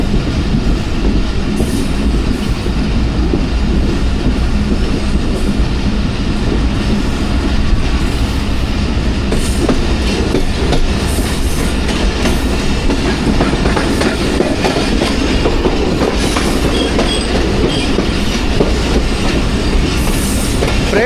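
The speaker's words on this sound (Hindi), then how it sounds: "भोलारी रेलवे स्टेशन से पास हो रही है 11 हज़ारा एक्सप्रेस" The Hazara Express passes Bholari railway station, a loud, continuous rumble of rolling stock with steady wheel clatter and occasional squeal lasting throughout, close by and without speech.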